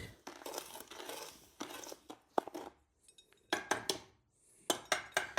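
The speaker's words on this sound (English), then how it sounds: "So I'll just take the lid off and stir it around a little bit and get it turned up so that heat can start getting all the way through that sand." Wax and sand are stirred in a pot being heated, giving irregular bursts of gritty scraping and light metallic clinks with quiet pauses between them.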